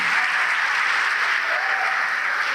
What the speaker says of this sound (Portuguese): E vamos aplaudir o Senhor,